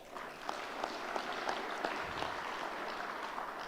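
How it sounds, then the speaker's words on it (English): Applause from a meeting audience, fairly quiet and steady, with scattered individual claps standing out over a few seconds of soft, continuous clapping. "So can I get a round of applause for that?"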